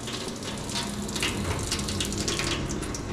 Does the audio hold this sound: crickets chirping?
no